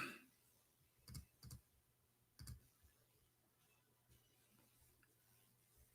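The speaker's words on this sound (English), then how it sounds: "Let me type it for you on the screen." A handful of soft computer keyboard keystrokes come in small, scattered clusters separated by long quiet gaps, faint and close by, with no voices.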